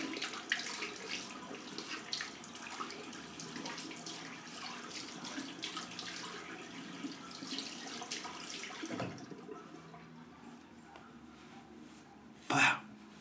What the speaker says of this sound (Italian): Acqua calda, vado.